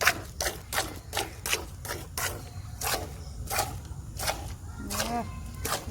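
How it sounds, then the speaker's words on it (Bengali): Milk squirting in quick rhythmic spurts into a bucket as a cow is milked by hand, the hissing jets steady and close, with low farmyard background noise. "দুধ ছিটকে পড়ছে বালতি থেকে বেরিয়ে যাচ্ছে"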